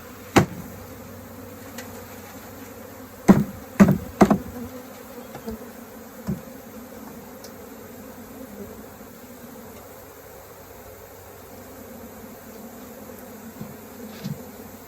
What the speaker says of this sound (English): I'm about to dump these bees in here.